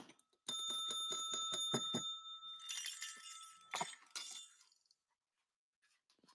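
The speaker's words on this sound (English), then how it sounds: "2 different sizes. Old jingle bells." Old jingle bells in two sizes shaken close by, a bright ringing jangle of repeated clustered shakes that rolls on for a few seconds before fading out.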